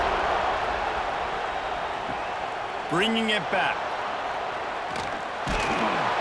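Stadium crowd roar in College Football 26 during a Charlotte versus Georgia kickoff, a constant loud crowd bed with a commentator's voice over it.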